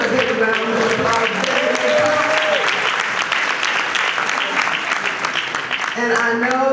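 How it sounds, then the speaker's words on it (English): An audience at a pre-parade breakfast celebration gives a big round of applause, a full, sustained wash of clapping with a few voices cheering over it as the speaker's voice fades in and out at either end. "Give him a big round of applause."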